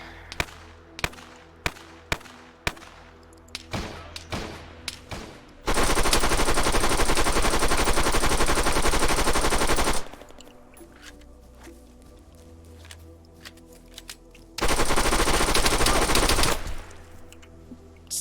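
Gunfire in Arma 3 with the Fallout Ops mod: a string of sharp single shots, then two long sustained bursts of loud, close automatic fire separated by a quieter lull.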